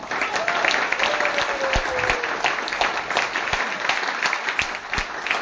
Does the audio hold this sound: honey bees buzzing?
no